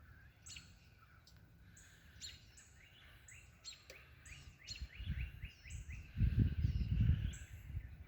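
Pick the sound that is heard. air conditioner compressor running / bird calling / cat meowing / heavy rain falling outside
bird calling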